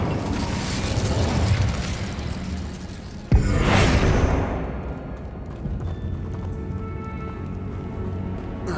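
A burst of fantasy fire magic in a wizarding video game: two spells cast in succession, with a sharp crack and then a roaring, whooshing blast that fades into a crackling rumble, over steady game ambience.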